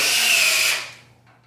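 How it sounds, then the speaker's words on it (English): A power drill driving a screw to mount skis, clutch set low, whirs steadily for under a second, then spins down and stops, leaving a faint low hum. "I'm going to send it in with my drill here"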